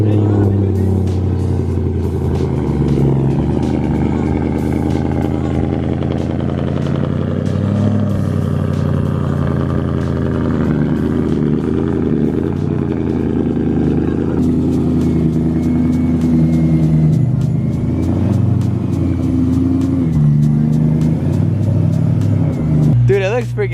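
A BMW M3 drift build with a full race car setup drives on a street, its engine droning and revving in rising and falling surges over a steady rumble, loud and close for the whole stretch.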